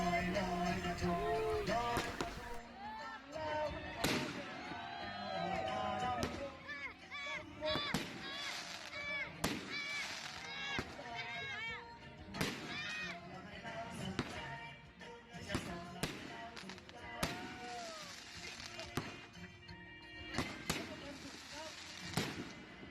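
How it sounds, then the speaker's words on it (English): Night fireworks in rural Thailand, a long series of sharp bangs and crackles at irregular intervals, some loud and near, others fainter, with whistling rising tones between bursts. "So Monday night finished off with a bang, with the fireworks."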